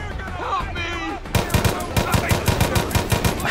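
Rapid gunfire in the video game Far Cry 5, a burst of sharp repeated shots close and loud following a quieter stretch, with someone talking under and between the shots.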